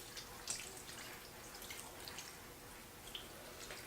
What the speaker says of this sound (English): we're going to take this and gently pour it over our cornbread croutons